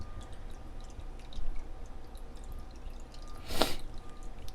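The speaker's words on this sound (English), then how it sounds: "I'm just letting the excess water drip out as much as it can" Excess water drips from freshly tea-stained paper, giving faint scattered drips over quiet room noise and one louder splashy burst near the end, with nobody speaking.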